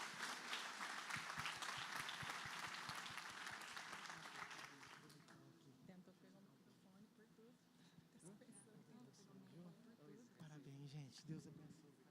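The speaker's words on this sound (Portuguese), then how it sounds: "Sela isso com um aplauso bem forte." A congregation in church applauds loudly for several seconds, then the clapping fades and talk and cheers carry on under a few scattered claps.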